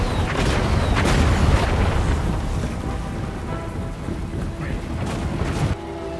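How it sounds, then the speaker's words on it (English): Gyrocopter bomb explosions in the Total War Warhammer battle game, a dense rumble of repeated booms striking zombie troops, loud and continuous, with a crackling rain-like wash of game noise that cuts off abruptly near the end. "At least this one is dropping all his bomb load over the enemy."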